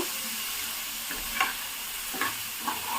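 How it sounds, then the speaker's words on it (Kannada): Fish pieces fry slowly in a pan with a continuous, even sizzle and two or three soft spatula taps, close by and with no talk. "ಸುಮ್ಮನೆ ನಿಧಾನಕ್ಕೆ ಫ್ರೈ ಮಾಡಬೇಕು"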